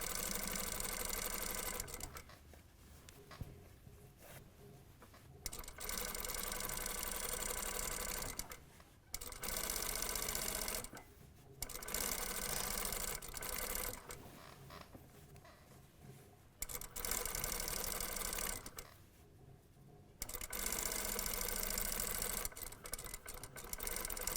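A sewing machine stitches an understitch along the facing of a vest, whirring in several sustained runs of a few seconds each, separated by short quiet pauses. The sound is close and clear.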